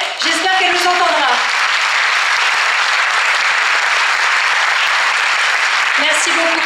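At the Miss Côte d'Or pageant, an audience breaks into loud, sustained applause that fills the room. A voice speaks briefly at the start and again near the end.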